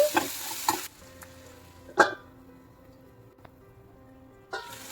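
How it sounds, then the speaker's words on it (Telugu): Green chilli pieces and curry leaves fried in a pan for an egg masala curry: a burst of sizzling at the start, then a sharp stirring clatter, with quieter frying in between. "పచ్చిమిరపకాయ ముక్కలు కొంచెం కరివేపాకు కూడా వేసుకొని వీటన్నిటినీ కూడా కొంచెం ఫ్రై చేసుకోవాలి"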